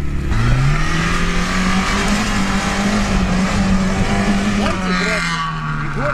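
A Lada Niva 4x4 climbs off-road in the mountains, its engine revving loud and close with a sustained, rising-and-falling drone and strained mechanical whine throughout.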